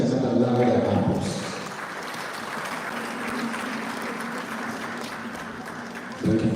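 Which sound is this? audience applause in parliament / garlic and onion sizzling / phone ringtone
audience applause in parliament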